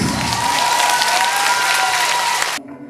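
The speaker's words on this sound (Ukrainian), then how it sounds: "Активно аплодували та дарували квіти" A concert audience claps loudly and steadily for a Ukrainian singer in Cherkasy, with dense sustained applause that stops abruptly near the end.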